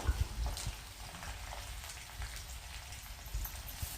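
Cut potatoes drop into a hot cumin and green chili tempering and sizzle loudly, a dense crackling hiss with low thumps of pieces landing, close up and continuous, with no voices.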